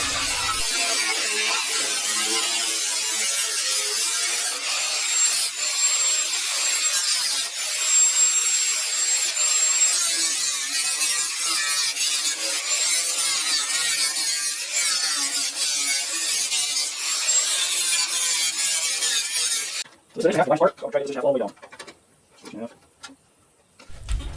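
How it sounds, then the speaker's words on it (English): Old metal being cut off a worn John Deere lawn mower deck, a steady loud grinding rasp running for about twenty seconds, then cutting off into quieter clanks and handling noises. "Cutting off all that old metal, trying to find something good solid to weld to."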